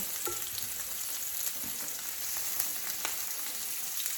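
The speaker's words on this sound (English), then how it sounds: "I'm going to add them right to the cast iron skillet so they can start to sear up" Seasoned jumbo scallops sear in a cast iron skillet, giving a constant even sizzle with faint crackles, close and moderately quiet, with no voices.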